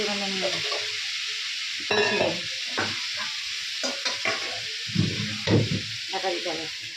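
Vegetables fry in a home kitchen pan with a steady broadband sizzle, broken by several louder stirring scrapes and bursts, and faint voices in the background.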